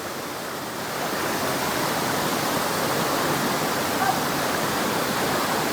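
Steady roar of a waterfall at a swimming spot, a loud, broad rushing wash of falling water that continues without a break, close and dominant with no voices over it.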